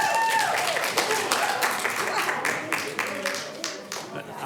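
Applause with some cheering from the audience at a city council meeting, a steady wash of clapping lasting several seconds, moderately loud and thinning toward the end.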